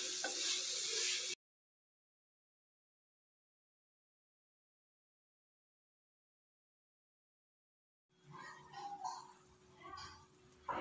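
A capsicum and prawn masala mixture is stirred in a pan, giving a short burst of scraping and sizzle, then a long silence before more stirring noise returns.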